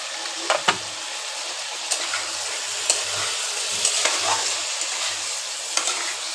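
Fried pointed gourd is stirred and sautéed in a pan with a spoon of sour yogurt. A steady sizzle runs under sharp spoon scrapes and clacks against the pan at irregular intervals, close and alone.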